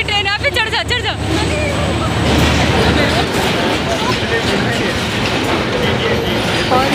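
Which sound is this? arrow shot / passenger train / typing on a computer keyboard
passenger train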